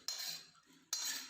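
Two sharp metal scrapes of a spatula stirring peas and ginger in a pan, spaced about a second apart, close and clear with quiet between them.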